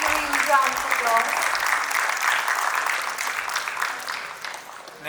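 An audience at an inauguration and felicitation program applauds in a continuous patter of clapping that gradually fades, with a brief tonal sound near the start.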